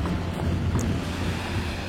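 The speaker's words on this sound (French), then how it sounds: "au son des vagues, c'est un spot super tranquille" Waves wash steadily with a low, rumbling surf, mixed with some wind buffeting the microphone.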